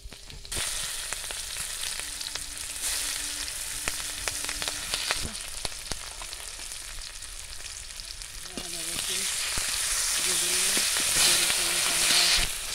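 Cumin, bay leaf and dried red chillies fry in hot oil with a dense, continuous sizzle that swells louder toward the end, while faint clinks and a thin tonal hum sit underneath.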